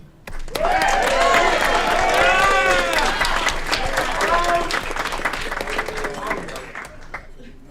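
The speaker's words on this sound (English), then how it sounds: "Keep the applause going for Matt." Sustained applause from a council meeting audience, dense clapping that holds steady for about seven seconds before tapering, with people talking and calling out over it.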